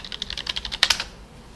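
Typing on a computer keyboard, a quick run of about a dozen close, crisp key clicks in an even rhythm, ending in a slightly louder double tap before falling quiet.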